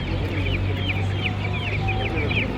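Chickens at a live poultry market in Tanta, Egypt, clucking and chattering in a steady string of calls close by, over a continuous low hum and faint background voices.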